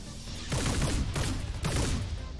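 Gunfire rings out in the modded XCOM 2 game, several loud broadband shot bursts with a steady mechanical rumble beneath and no talking.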